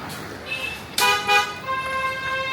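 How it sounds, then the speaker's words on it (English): Car horns toot in dense, chaotic city traffic in China, with a sharp honk about a second in followed by several more sustained horn tones overlapping amid a steady roadway hum. "I don't know if you can see that traffic up front."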